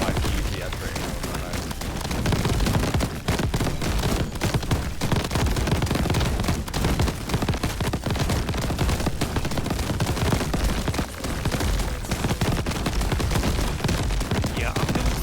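Rapid, continuous video game gunfire aimed at slugs, loud and dense throughout with bursts that barely pause, set against a busy game soundscape.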